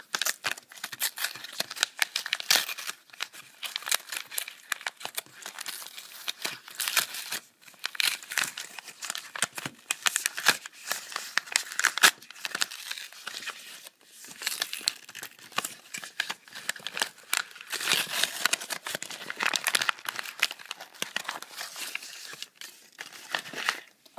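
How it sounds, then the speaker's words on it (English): Packing tape on a parcel of trading cards is cut and the wrapping torn open, with irregular crinkling, rustling and tearing that comes close in uneven bursts throughout, no talking. "So I'm going to just cut the tape."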